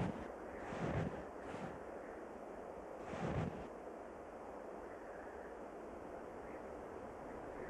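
Strong Arctic wind roars steadily across the open snow of the Cape, a broad rushing noise with two heavier gusts early on, and no voices.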